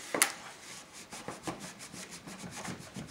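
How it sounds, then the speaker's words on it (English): Fingers rub tape down onto a cardstock gift bag, giving soft, close scratchy strokes in a quick uneven rhythm, quiet and without talk. "I'm just rubbing the tape in."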